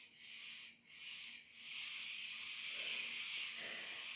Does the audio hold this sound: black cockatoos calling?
yes